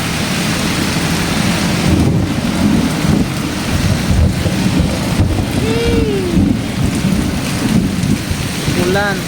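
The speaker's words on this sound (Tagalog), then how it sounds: "Ulan." Steady rain pours down, a dense, constant hiss of drops on surfaces, loud and close, with gusts of wind buffeting the microphone and a brief faint tonal whine near the end.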